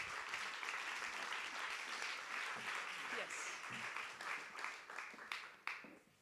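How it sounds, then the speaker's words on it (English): Sustained applause from an audience at the AHK Graduation Prize award ceremony, a dense steady wash of clapping that thins toward the end with a few sharper individual claps. "Give a grand applause to Ernestine Convalius"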